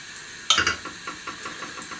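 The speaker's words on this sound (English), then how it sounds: "Now let the butter melt." Butter melts in a frying pan with a faint hiss and scattered small pops and sputters, starting with a brief louder burst.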